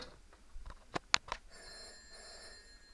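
A payphone's bell rings in a few short, sharp bursts close by, clustered together and then fading into a quiet room hum with no talking.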